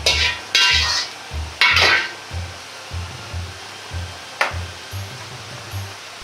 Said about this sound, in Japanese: 入れたら周りから膨らみ、気泡が出てきたら真ん中から混ぜ合わせた半熟に炒めます。